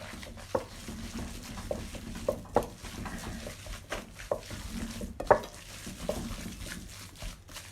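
Beef burger mince is worked by hand in a bowl, giving quiet, soft squelching and irregular light taps against the bowl, close and fairly faint.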